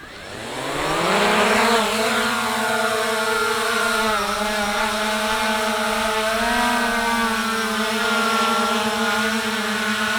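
A Hubsan Zino 2 drone spins up for an automatic takeoff: its motors whine loudly, climbing in pitch over the first two seconds, then hold a steady, close, buzzing drone through flight with no talking.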